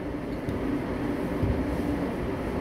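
A Korail Cheonan express train, set 311B66, with Toshiba VVVF IGBT traction motors, running near Anyang station: a steady low rumble with a faint humming drive tone, heard from inside the car with no talk.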